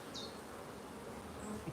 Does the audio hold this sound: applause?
no